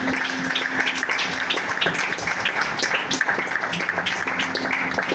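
Church congregation applauding during a Sunday school service, a steady dense patter of many hands clapping together for the whole stretch at moderate volume.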